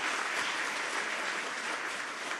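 A hall full of summit attendees applauding, a steady, dense wash of clapping that holds at an even level throughout with no voices over it.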